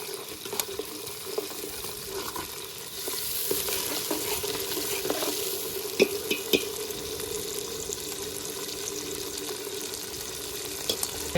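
Garlic hisses and sizzles in hot oil in a pan while cooking a Kathiawadi-style whole brinjal curry, with a steady frying crackle, occasional stirring clinks and a slight rise in intensity partway through.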